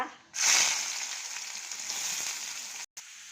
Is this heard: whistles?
no